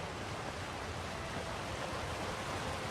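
Waterfall ambience in Elder Scrolls Online is a steady, dense rush of falling water, even and unbroken throughout, filling the scene at moderate level.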